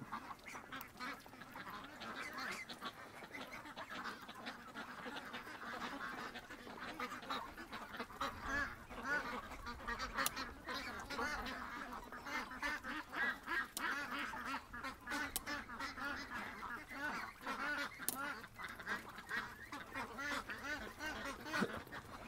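A flock of ducks quacks constantly, overlapping calls at moderate distance with no one talking.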